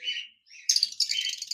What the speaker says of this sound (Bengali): অপার লাইন লাভবার্ড পাখি রয়েছে।